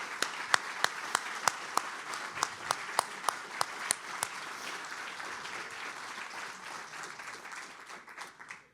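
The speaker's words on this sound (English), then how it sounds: "Let's give ourselves a last kind of collective round of applause." Audience applause at a nature organization's gathering, a dense crowd clapping with a few sharp, evenly spaced claps standing out at first, then settling into a steady wash that slowly fades out.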